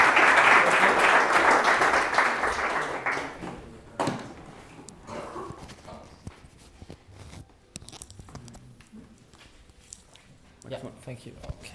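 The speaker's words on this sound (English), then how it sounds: "applause for Michael" Audience applause at an Ethereum meetup, a burst of clapping from a small crowd that fades within a few seconds, followed by scattered handling noises and quiet room sounds.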